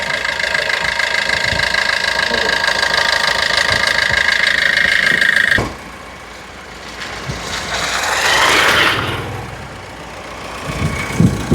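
A CRDi car engine idles loudly and close with a steady hum, then abruptly drops quieter as a rushing swell rises and fades.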